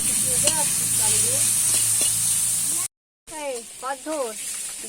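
Food sizzles steadily in a pan during Bengali-style kosha sautéing, a constant close hiss broken by a brief silence, with voices talking over it.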